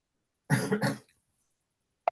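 A single throaty cough, close and clear, followed by a short click after a moment of silence.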